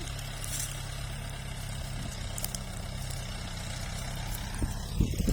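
Tractor plowing a field, its engine a steady low rumbling drone with mechanical vibration, heard at moderate distance and even in level throughout.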